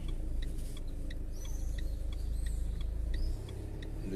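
A car carrying exam papers under security escort arrives at an exam centre in Casablanca, its engine rumbling steadily and fairly near, with faint ticking and street noise above it.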